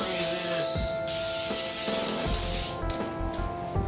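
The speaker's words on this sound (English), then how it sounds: "spray what you're working with first," An aerosol adhesive sprays in a few close, loud hissing bursts onto car interior trim being reupholstered, with short pauses between bursts.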